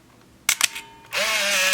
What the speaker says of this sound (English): Fairly fast shutter speed.